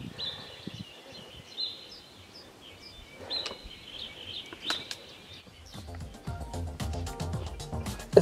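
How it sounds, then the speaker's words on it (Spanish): Many birds chirping and calling at once along a hillside trail on Isabela Island in the Galápagos, faint and scattered, with busier overlapping calls near the end. "una infinidad de pájaros"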